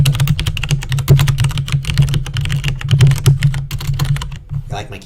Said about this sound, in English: You like my keyboard? Super loud.